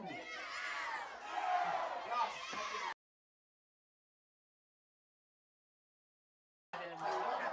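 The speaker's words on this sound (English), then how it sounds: "Matthew Dotson doing his best to rally the crowd as well." A football crowd at a home opener roars and shouts loudly for about three seconds, then the sound cuts to silence before the cheering noise returns.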